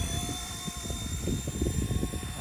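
A small RC Era C189 MD500 remote control helicopter flies outdoors on a windy day, its rotor giving a steady close whir over gusty, buffeting low rumble throughout.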